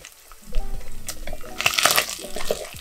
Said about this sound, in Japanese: ベーコンを炒めていく。